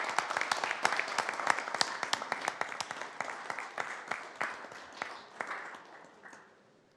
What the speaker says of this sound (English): Let's give a round of applause to Wendy and Herriman City.